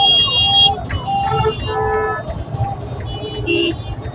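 Busy road traffic jam with horns and engine noise; an ambulance siren rises and falls among the honks, with a voice speaking over it.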